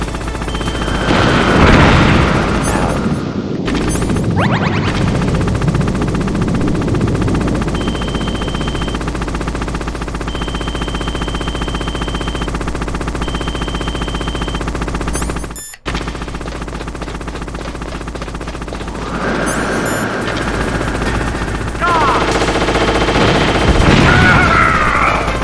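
Gunfire in the video game Metal Gear Solid, loud bursts of shots and booms over a constant dense game soundscape, with an electronic tone and a brief dropout midway.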